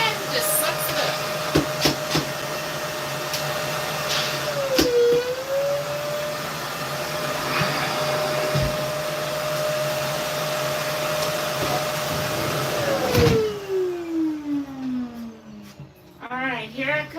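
A vacuum runs with a steady loud drone for about thirteen seconds, a brief dip midway as it sucks something up, then spins down to silence, with faint talking and handling noises around it.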